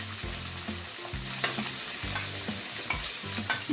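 Onion, green chili and curry leaves fry in a pan with a steady close sizzle, broken by a few scrapes and stirs, no voices.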